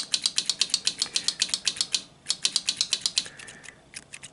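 Rapid mechanical clicking of the starter relay on a 1996 Honda TRX300EX ATV fed 12 volts, in a steady rhythm, a short pause, then more clicks that thin out and stop, starter not engaging; close and fairly crisp with no talking.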